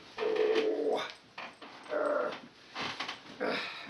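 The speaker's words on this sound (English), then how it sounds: "here comes the dog" A dog comes near, giving a series of several close, growly whines and whimpers in uneven bursts with short pauses between.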